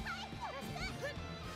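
In the football video game Inazuma Eleven Victory Road, the wolf howl special move gives off wavering, yelping howls that rise and fall over a steady game backdrop, with a voice talking faintly underneath.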